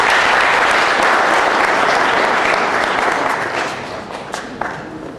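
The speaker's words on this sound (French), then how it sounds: "Est-ce qu'on peut applaudir?" Loud, dense applause from a large audience at a sports awards ceremony, holding steady before gradually thinning out.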